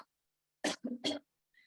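Two short, forceful coughs close together, each a sharp broadband burst, followed by silence and a faint brief sound at the end.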